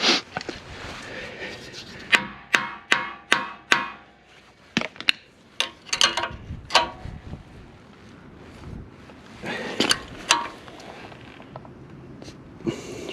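A hammer strikes a steel pivot pin on the blade of a small dozer, landing a burst of sharp metallic whacks in quick succession, then a few scattered knocks, with wind noise in the background outdoors.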